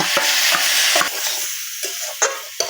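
A ground paste of tomato, ginger and green chili fries with raw papaya and potato in a pan, giving a steady close sizzle broken by several sharp spatula scrapes and stirring knocks, with no voices.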